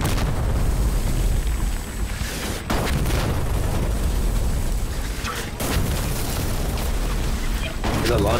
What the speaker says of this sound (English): There's a lot of explosions over here.